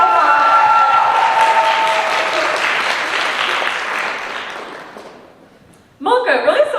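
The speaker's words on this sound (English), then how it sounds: "one last round of applause for our seniors" An audience applauds the seniors at a Shruti Laya stage event, a loud sustained wash of clapping that gradually fades out, followed by a voice speaking.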